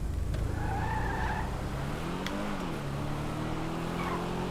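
Bugatti Divo skidding in GTA 5, a sustained tire squeal with shifting engine drone, loud and close, lasting through most of the moment.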